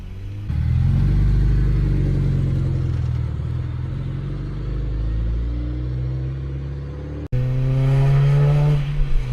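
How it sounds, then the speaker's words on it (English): Supercharged 2009 Honda Civic Si pulling away with a loud, close engine drone that climbs through the revs, a brief cut at a gear change, then a sharp rising rev and a steady run. "2009 Civic SI CT Supercharged. Let's go."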